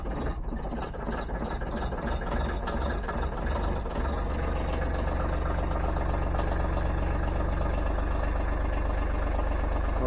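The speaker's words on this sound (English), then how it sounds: "I'm going to get the tractor fired up" A cold tractor engine, started and left idling outdoors, gives a steady loud mechanical rumble that settles into an even idle throughout, with no talking.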